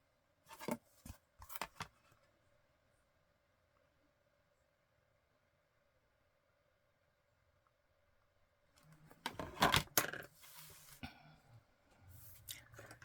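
Scissors cut through a paper cover in short crisp snips, a couple at the start, then a denser burst of cutting and rustling after a quiet pause, all close by.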